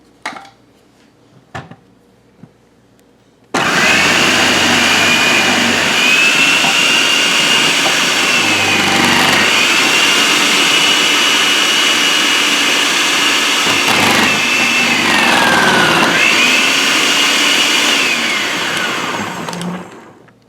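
Electric shredder grinding through a zucchini for a chocolate zucchini sheet cake: a few short clicks and taps, then a loud, steady, whining motor roar that runs continuously for about seventeen seconds with slight pitch dips as the vegetable is fed in.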